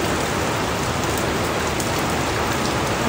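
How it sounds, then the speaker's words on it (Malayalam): A sudden downpour of heavy rain, loud and close, a thick steady rush of water on surfaces that stays even from start to finish without any voices. "പെട്ടെന്ന് മഴ"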